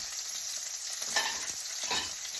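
A steak sizzles in a hot pan with a steady, bright hiss close by, a couple of louder crackling bursts rising over the continuous frying.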